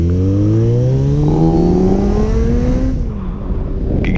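Kawasaki Z900RS retro-styled motorcycle engine revving loudly and close, pitch climbing steadily through a long pull before easing off, then a brief sharper blip at the end.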